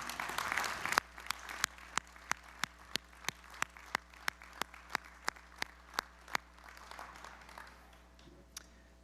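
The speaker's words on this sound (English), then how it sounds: "Let's give another round of applause for this great leader." Audience at a May 2023 undergraduate commencement applauding the speaker: a brief burst of full applause, then a lone pair of hands keeps clapping slowly and evenly, sharp single claps spaced about a third of a second apart.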